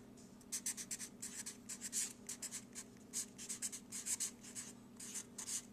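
Pen or pencil scratching out math notes on paper, bursts of short strokes in an uneven rhythm, close and fairly quiet with no speech.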